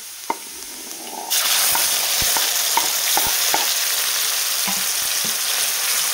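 Tomato going into a pan of frying aubergine vegetable curry brings a jump from a quiet hiss to a loud, steady sizzle, with spoon taps and stirring clicks throughout, close up.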